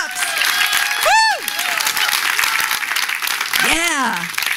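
A church congregation at a Sunday service applauds steadily, with loud whoops and cheering voices rising above the clapping.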